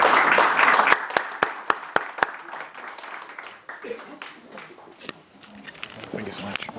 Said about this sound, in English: let's give a nice loud round of applause to Rabbi YY Rubenstein